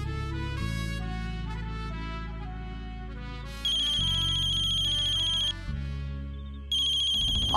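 A telephone rings for an incoming call, playing a loud melodic ringtone in repeated phrases that continue without any voices.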